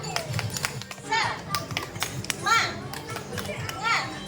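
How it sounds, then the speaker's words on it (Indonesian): Children at a kids' cooking class clap out a quick rhythmic cheer together, sharp hand claps mixed with excited young voices and chatter. "Tepuk semangat."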